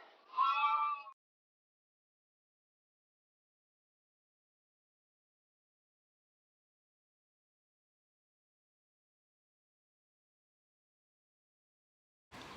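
A sheep bleats once near the start, a short harmonic cry from a ewe on a farm at lambing time, followed by long silence and a brief faint sound at the very end.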